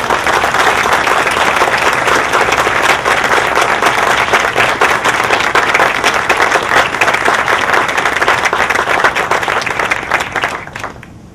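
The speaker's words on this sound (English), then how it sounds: "Give a round of applause." A large audience applauds steadily and loudly for about ten seconds, the clapping tapering off at the end.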